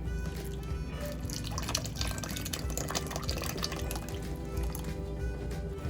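Liquid poured into red velvet cake batter, a steady close trickling and dripping pour running continuously throughout with no talk.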